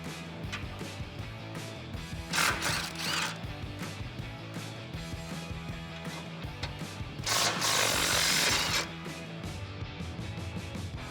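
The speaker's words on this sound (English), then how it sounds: "grab a 21 millimeter socket and let's get these removed" 21mm socket on a ratchet removing the cap nuts from the inside of a Silverado 1500's frame rails while fitting a front bumper; steady close clicking and fiddly metal handling, with two louder ratcheting bursts, no talk.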